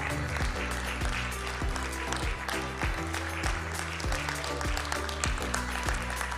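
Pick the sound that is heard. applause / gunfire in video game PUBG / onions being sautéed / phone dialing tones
applause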